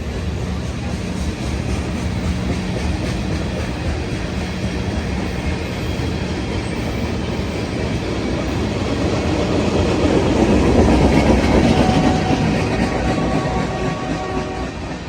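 A Union Pacific tanker train rolls past Emeryville Amtrak Station on its way to Martinez, a steady loud rumble of wheels and rail cars that swells near the end, heard alone without talk.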